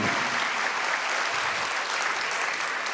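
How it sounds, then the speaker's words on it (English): A community fundraiser audience applauds steadily, a dense, even wash of clapping that holds at the same level throughout without any talk. "let's get one more round of applause"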